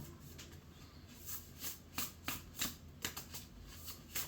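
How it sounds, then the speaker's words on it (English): Tarot cards are shuffled repeatedly up close, a soft riffling flutter with rhythmic snaps as the cards bridge and fall together. "Give us a nice shuffle."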